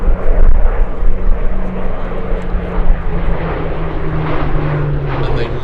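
Hawker Hurricane fighter flying at the 2024 Sywell airshow, its piston engine giving a loud, steady droning roar with a sustained low hum that holds level for several seconds without talk.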